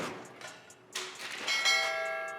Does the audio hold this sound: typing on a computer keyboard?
no